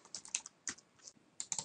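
Typing on a computer keyboard, a close, quiet run of irregular key clicks in short bursts with brief pauses.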